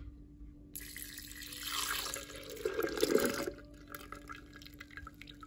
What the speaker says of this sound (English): We're going to start by adding in our water mixture with the flour.